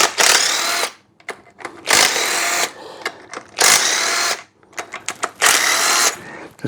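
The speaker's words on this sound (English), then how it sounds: "then we'll just undo these bolts around here" Power tool undoing bolts on a Briggs & Stratton V-twin engine during governor removal, loud bursts of whirring drive about a second long, repeated four times with short ratchety clicks and pauses between.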